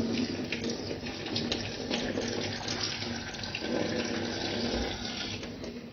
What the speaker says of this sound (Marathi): गाळून घेतलं सगळं पाणी त्यातलं आणि आता बाजूला ठेवलं आहे आपण.